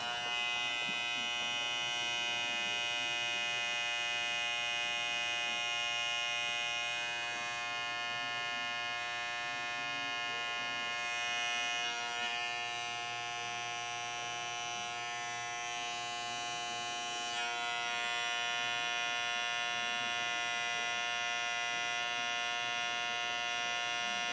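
A CHJ PRO CJ 907 electric hair clipper runs steadily close by, a constant high-pitched motor buzz with dense harmonics that holds the whole time, slightly varying in tone, with no talking.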